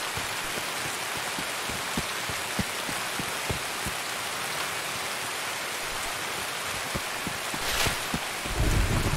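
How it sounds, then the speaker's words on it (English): In the game Escape From Tarkov, a heavy downpour hisses steadily, with sharp individual drops ticking through it and a low rumbling thump near the end; no voices. "we heard it start to rain in Tarkov, and it is literally downpouring now"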